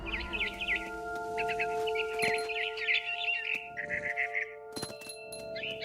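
Small birds chirp and twitter in quick repeated bursts inside the video game What Remains of Edith Finch, set over a steady tonal hum with a few sharp clicks and knocks.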